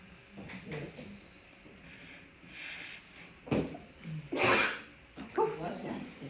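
A single sharp sneeze bursts out in a meeting room, set against a quiet murmur of voices and faint rustling.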